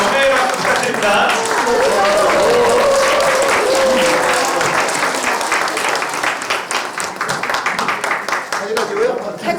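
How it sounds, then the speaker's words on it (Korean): Loud, sustained applause from an audience at the launch ceremony of the 21st Yongsan-gu council of Korea's Peaceful Unification Advisory Council, continuous dense clapping with some voices mixed in, thinning slightly toward the end. "장성민 회장님께 축하와 격려의 박수 부탁드립니다."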